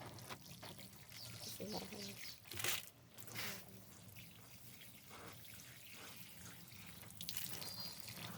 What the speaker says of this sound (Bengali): আজকের মতো করা শেষ এখন জল দিই